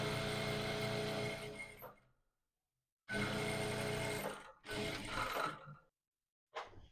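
A sewing machine bastes two structured peplum arcs together for a corset gown, running in three steady mechanical bursts separated by pauses, with a brief final start near the end, close and clear with no talking.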